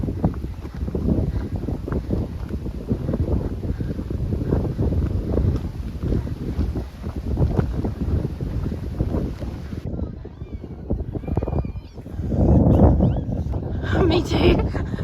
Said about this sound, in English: I don't even know if you can hear this because it's windy as shit